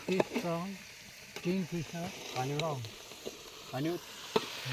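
Onion and coconut masala frying in oil gives a soft, continuous sizzle heard beneath intermittent talking.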